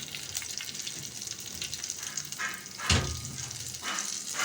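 Cumin seeds fry in hot oil until browned, giving a continuous crackling sizzle with a louder stir or splash partway through, in a home kitchen.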